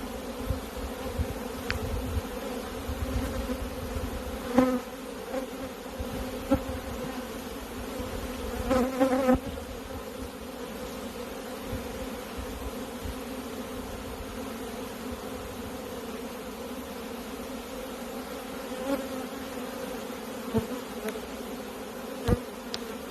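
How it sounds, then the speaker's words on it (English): Michigan honey bees buzz in a dense, steady drone as they are shaken off a hive frame, with occasional soft thumps and clicks of handling. "I'm just shaking these bees, and we're gonna cull that frame out of the operation"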